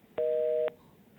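Telephone busy tone after a call to a real-estate advice line drops: a steady two-tone beep pulsing on and off, one long clear burst followed by the start of another, with no talking.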